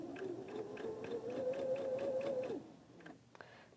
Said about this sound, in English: I'm just going to keep right on stitching.